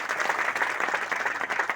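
Dense applause from an audience at a business meeting on direct selling fills the short stretch, steady and close, with no voices over it.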